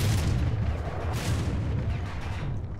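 Heavy tank cannon fire in a video game, a dense, loud rumbling barrage of booms filling the whole stretch with no talk over it.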